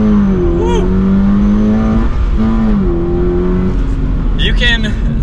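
A manual Toyota GR86 revs hard as it launches and its tires spin, the engine note rising loud and close, with a voice over it.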